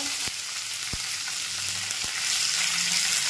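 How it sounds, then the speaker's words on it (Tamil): Curry leaves dropped into hot oil for a chicken curry crackle and sizzle loudly, with a few sharp pops over a dense frying hiss. "இந்த எண்ணெய் பாருங்க, கொஞ்சம் கருவேப்பிலை போடலாங்க"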